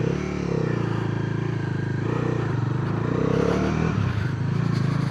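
Bajaj Dominar 400 fitted with the new 350cc engine idles and revs close by, its exhaust giving a deep, steady throb with a slight rise in pitch near the end, heard alone.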